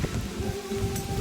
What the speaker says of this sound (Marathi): पाऊस आहे, वारा आहे भरपूर